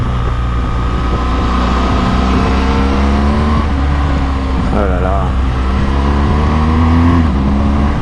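A BMW R1200GS motorcycle engine runs steadily and climbs through gears on a quickshifter without the clutch, its drone continuous and close, while a rider talks over it.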